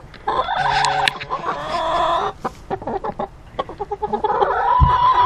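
Backyard flock of ten laying hens clucking and squawking up close, with a rooster's crow mixed in, busy overlapping calls that come in bursts and trail off.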